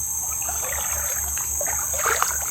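Shallow river water trickles and babbles steadily over stones nearby, with a faint high hiss in the background and no voices.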